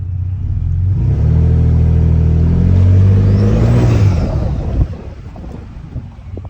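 A V6 Ford Raptor truck fitted with a K&N cold air intake drives along, its engine note rising in a loud, sustained revving climb before easing off, with wind noise over the microphone and no talking.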